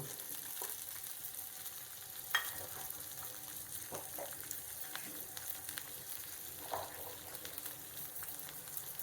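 Green chillies and garlic cloves frying in oil in a pan, a steady soft sizzle with occasional louder pops and crackles, no voices.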